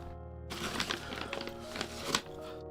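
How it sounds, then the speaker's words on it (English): Scattered soft taps and knocks on a keyboard and tabletop, picked up close by a desk microphone, with a faint steady hum underneath and no talking. "you can hear everything every time I touch onto the keyboard or on the table"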